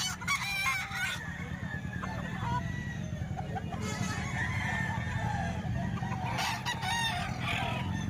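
Many chickens and roosters at a poultry seller's in Lipa, Batangas crow and cluck together in a steady, dense barnyard din, with someone talking over them throughout.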